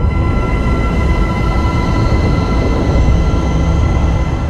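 Sonified primordial sound waves from the early universe, pitched up into the audible range, form a steady, dense rumbling drone with faint high tonal whistles, continuous and loud throughout with no voices.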